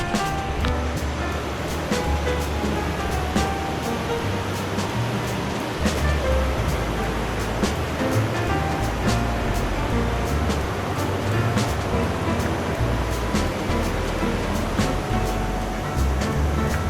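Water rushes and splashes steadily under a vehicle on a long-distance ride, a broad continuous wash like surf that holds at a constant level throughout with occasional brief knocks and thumps.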